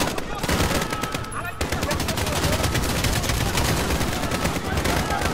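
Dense, continuous gunfire from Call of Duty Modern Warfare campaign combat, rapid automatic bursts layered over one another, loud and close with a brief dip before the shooting resumes.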